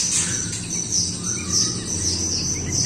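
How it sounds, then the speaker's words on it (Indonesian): A sooty-headed bulbul's bright chirps and short calls ring out repeatedly over a steady low background hum, close by and moderately loud. "di depan saya ini ada burung kutilang"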